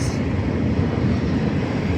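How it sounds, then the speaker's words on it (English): A long train rolling past on the tracks at a station, a dense, even low rumble that stays steady for the whole stretch. "That train is so long, like, jeez."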